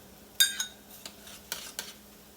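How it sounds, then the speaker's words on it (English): Instant rice poured into a pot of boiling water on a stovetop, giving a few soft rattling, sizzling bursts spaced irregularly over a low steady hum, close and fairly quiet. "Time for the rice to go into the boiling water."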